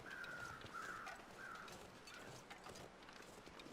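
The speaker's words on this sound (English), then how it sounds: "The crows usually mean a dead body." Crows caw in the survival video game The Long Dark, three or four faint calls spaced across the opening seconds over quiet wind-like ambience with no voices.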